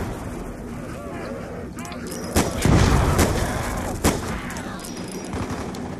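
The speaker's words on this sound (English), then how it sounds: "Let's just shoot the floor randomly" Gunfire from shooting at the floor in a zombies survival video game set in a town: a few loud cracks and booms over a steady game noise bed, with a person talking.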